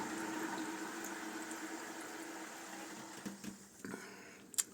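Quiet, steady hiss of water filling an underfloor heating manifold and its pipes, with faint gurgles and a few small knocks toward the end.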